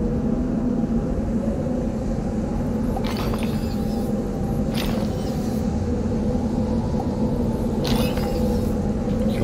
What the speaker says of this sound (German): Ich hoffe, der Sturm zieht nur vorbei.